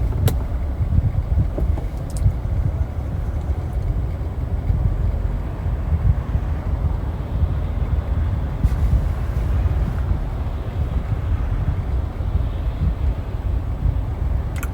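A car crawls in bumper-to-bumper traffic on the drive from Manhattan to the Hamptons, with a steady low road and engine rumble, wind buffeting and a couple of faint clicks, and no talk.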